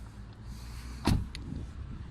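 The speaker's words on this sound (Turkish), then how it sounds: "Evet kaputumuzu açtık." Opening the hood of a 2000 Volkswagen Polo Comfortline: one sharp latch clunk stands out midway against a quiet background, followed by faint rattling.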